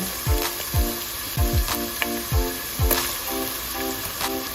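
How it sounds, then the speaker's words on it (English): Chopped garlic, ginger and onion fry in two tablespoons of oil in a pot, giving a steady close sizzle broken by repeated low thumps and clinks of stirring. "here I have 2 tablespoons of oil in my pot. And I'm going to go in with my chopped garlic, ginger, chopped onion"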